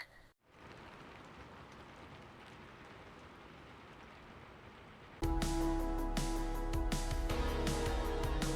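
Rain falling outdoors as a steady, even hiss, then abruptly louder and denser with sharp patters, as if heard from close to a hard surface or cover.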